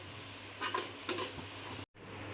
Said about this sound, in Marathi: यातच आपण आलं लसूण आणि मिरची हे पण यातच टाकून घ्यायचं आणि भाजून घ्यायचं